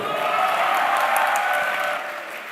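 Audience applause at a youth summit greeting a singer coming on stage, a dense steady wash of clapping from a crowd that fades slightly toward the end.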